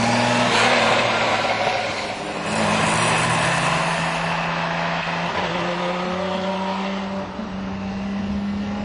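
Lamborghini Miura engine heard from on board while driving, a loud continuous drone with steady harmonic tones that rise and shift through gear changes, close and alone without talk.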